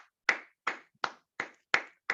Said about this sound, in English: round of applause to the team.